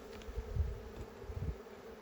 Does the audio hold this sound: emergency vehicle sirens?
no